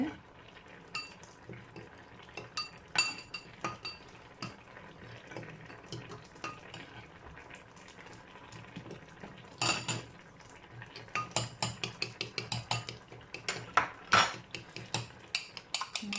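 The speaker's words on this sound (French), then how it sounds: "Et je prends un peu de sauce que je vais mettre sur le jaune d'œuf" Cutlery clinks and scrapes against a dish as sauce is stirred into egg yolk for stuffed vegetables in white sauce, with sparse taps at first and a rapid run of clicks near the end.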